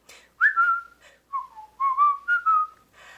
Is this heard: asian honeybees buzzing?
no